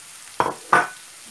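Fried chicken pieces dropped into a hot karahi, two quick sizzling splashes close together, then a low steady hiss.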